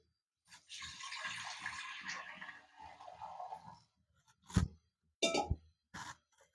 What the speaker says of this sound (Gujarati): એમાં આપણે પાણી નાખશું